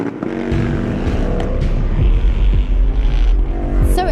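A loud Indian Scout racing motorcycle engine roars steadily, revving and shifting as it passes, with a rising whine at the end; no voices.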